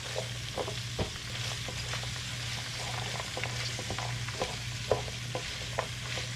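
Vegetables frying in a pan on medium-high heat for an egg roll in a bowl, a steady close sizzle with occasional stirring clicks and scrapes, no talking.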